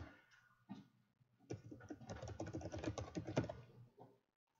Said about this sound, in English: Typing out these huge URLs is always a great time.